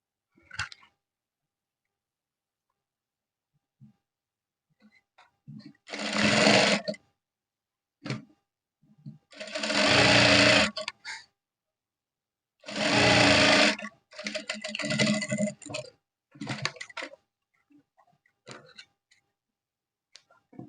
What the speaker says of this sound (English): So I'll sew from the top to this notch also here.